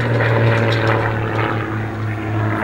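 A propeller-driven aerobatic aircraft spins through the sky in a pirouetting maneuver, its engine a steady, loud droning buzz with a strong low hum that holds throughout with slight wavering.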